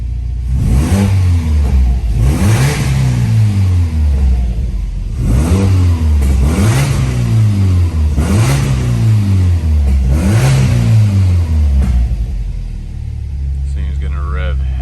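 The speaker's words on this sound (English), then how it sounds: "this thing is gonna rev happy" A car engine fitted with a twin scroll turbo kit revs repeatedly, about five loud rising-and-falling pulls at close range, then settles back to a steady idle.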